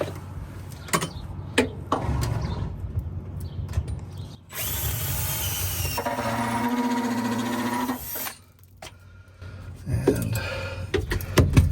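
A power drill whirs steadily for several seconds while cutting holes in a van floor, framed by clicks and handling knocks before and after.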